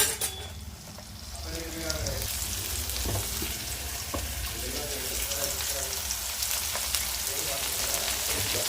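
Mint and coriander leaves added to a frying pan of vegetables including carrot and beetroot, a continuous dense sizzle with occasional stirring knocks, and a voice speaking faintly underneath.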